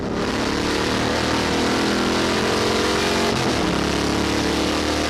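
A hillclimb race car with over 300 horsepower accelerates hard along a long straight at the 1998 Inistioge Hillclimb in Ireland. The engine roars loud and steady throughout with no audible speech.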